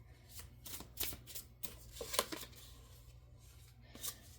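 Oracle cards, little Kipper cards, being shuffled for a tarot reading, a close, quiet run of crisp riffling flicks and slaps in irregular bursts over a low steady hum, no talk.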